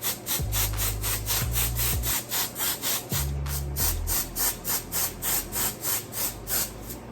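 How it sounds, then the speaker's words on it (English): Hair product rubbed by hand into braids and along the scalp, heard as a close, steady run of rhythmic rubbing strokes, several per second, over a low humming background. "I'm gonna rub it in so you won't see it"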